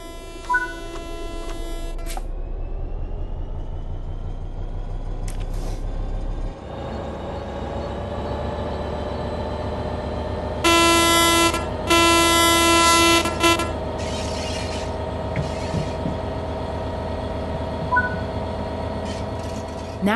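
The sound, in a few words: train starting to move under throttle, video game Train Sim World 3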